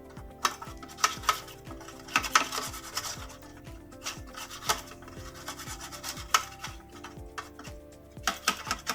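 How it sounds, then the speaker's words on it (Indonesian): A baking pan is greased with a thick layer of margarine or butter, making soft, close rubbing and scraping strokes in an irregular rhythm, with light ticks of the tool against the metal. "Kemudian kita siapkan loyang dengan diolesi dengan margarin atau mentega"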